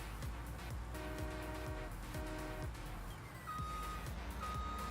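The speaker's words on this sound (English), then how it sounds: "It's actually a combine backup beeper" Repeating electronic reversing beeps of a combine harvester in Farming Simulator 19 over a steady low engine rumble, the tone pulsing in short regular bursts with a second higher beep later.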